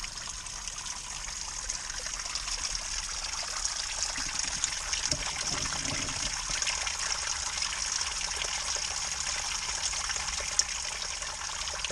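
A small waterfall trickles steadily into a little creek, a soft continuous splashing wash heard alone at low level throughout.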